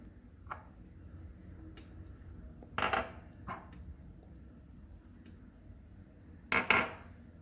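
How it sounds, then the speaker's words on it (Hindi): A spoon mixes baking powder and salt into flour in a bowl for a coconut cake, giving a few sparse, quiet clinks and taps against the bowl with long pauses between them. There is no talking. "सबसे पहले हम मैदे में बेकिंग पाउडर और नमक को मिक्स करके रख लेते हैं"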